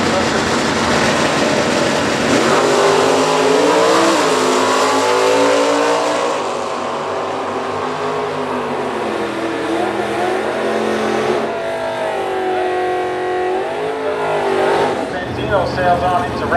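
A top dragster engine roars at a drag strip during a Super Stock racing event, loud and sustained, with rising revving tones that swell and ease back, while an announcer talks over it.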